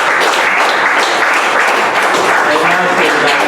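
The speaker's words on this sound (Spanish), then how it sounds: "Quiero pedir un fuerte aplauso para el autor," Audience applause for an author at a literary event in Iquitos, a dense steady wash of many hands clapping that holds loud throughout, with some speech mixed in.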